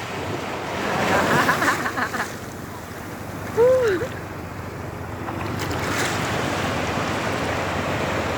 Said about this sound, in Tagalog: Alon, no?